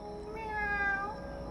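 During a game, a person's voice imitates a cat with one drawn-out, rising and falling meow, moderately loud and alone.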